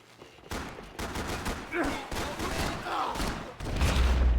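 Rapid gunfire from the shooter game Max Payne 3 rattles in dense, loud bursts of overlapping shots, with a heavy low boom rising at the very end.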